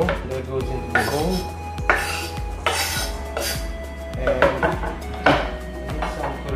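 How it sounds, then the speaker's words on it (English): A knife chops onions finely on a board in a home kitchen while making bhel puri, giving a run of sharp, irregular knocks and clinks over about six seconds, close and clear without talk. "So cut the onions as finely as you can."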